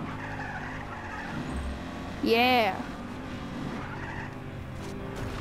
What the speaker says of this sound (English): let's get a drift